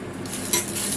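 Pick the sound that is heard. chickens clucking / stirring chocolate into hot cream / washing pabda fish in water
stirring chocolate into hot cream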